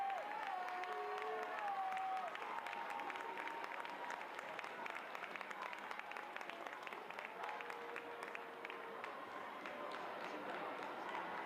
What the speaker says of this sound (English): Warm applause greets Toone